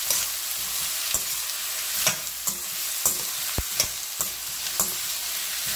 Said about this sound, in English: So the onions have to be nicely sauteed.